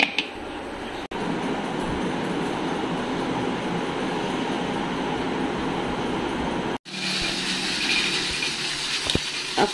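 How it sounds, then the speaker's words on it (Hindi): A pressure cooker cooking mutton gives off a loud, steady rush of venting steam that runs almost without a break, cut twice by brief dropouts, with no talking. "अच्छा अभी ना मैं इसको प्रेशर कुकर में डाल देती हूँ ताकि ये जल्दी गल जाए।"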